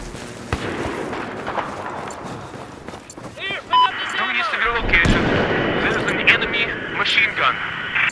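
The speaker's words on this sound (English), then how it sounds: "Machine gun." Machine-gun fire and battle noise from the video game Battlefield 4 ring out as sharp bursts and rapid shots under a rumbling, aircraft-like drone, with a voice talking over the action.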